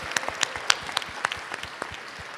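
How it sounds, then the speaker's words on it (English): Scattered, modest applause from a small audience honoring Dr. Banks at a teacher recognition event, individual claps distinct and uneven for a couple of seconds. "Dr. Banks, give Dr. Banks a round of applause."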